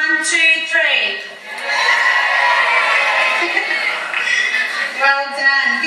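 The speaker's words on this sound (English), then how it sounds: "I want to hear a big cheer from those winners." A children's audience at a family fun day lets out a big cheer, a loud sustained burst of shouting and whooping from many young voices that fills the room for several seconds.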